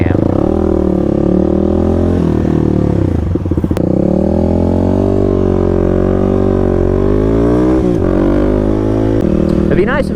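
A Kawasaki KLX300 motorcycle makes clutchless downshifts. The loud, close engine note steps down in pitch, with sharp throttle blips at each shift over a steady ride.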